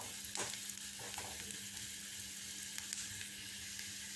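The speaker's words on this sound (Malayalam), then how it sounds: "അപ്പോൾ കുറച്ച് മഞ്ഞൾപ്പൊടി ഇട്ട് കൊടുത്തിട്ട് നന്നായി മുപ്പിച്ചെടുക്കുക" Onion and turmeric powder frying in a pan for a green bean and prawn stir-fry, a steady close sizzle with a few soft stirring scrapes and no talk.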